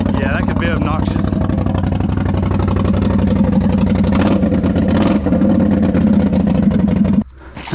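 Can-Am XMR 570 ATV engine running with a straight-pipe exhaust, loud steady idle with blips close by, a voice talking over it before it drops off at the end.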